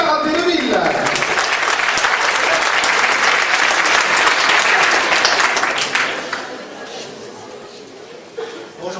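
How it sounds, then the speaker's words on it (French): A hall audience applauds loudly for a karate club at a New Year event, a dense sustained roar of clapping with some chatter and laughter. It fades after about six seconds, and a voice follows. "on peut les applaudir déjà très très fort"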